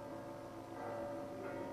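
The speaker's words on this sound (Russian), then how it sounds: "Десять колоколов храма Христа Спасителя торжественно возвещают о том, что через несколько минут пасхальная вечерня начнется" Ten bells ring at the Cathedral of Christ the Saviour in Moscow before Easter vespers in 1996. The bells were cast at the ZIL factory. Their sustained, humming tones carry steadily through the short stretch.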